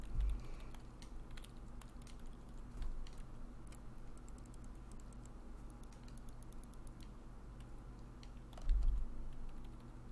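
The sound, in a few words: typing on a computer keyboard, from Everlasting Summer video game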